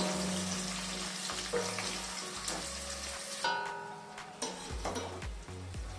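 Chopped onions fry and get stirred in a hot pan, a steady crackling sizzle with scraping stirs running through the whole stretch.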